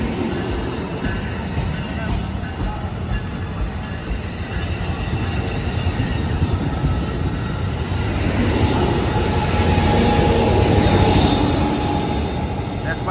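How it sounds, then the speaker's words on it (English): Amtrak Capitol Corridor passenger train with an SC44 locomotive rolling past close by, a steady loud rumble of wheels and cars with high metallic wheel squeal building toward the end, a voice faintly under it. "And there go that train, folks, on to Sacramento."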